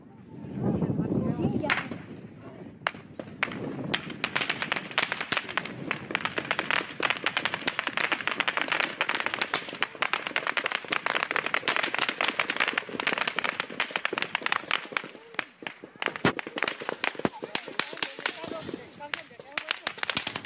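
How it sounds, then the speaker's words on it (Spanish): Rapid sharp cracks of long-range firearms ring out continuously in Cauca, Colombia, many shots in dense irregular bursts with some echo, sounding at a distance. "No son triquitraques, son disparos de armas de fuego y de largo alcance."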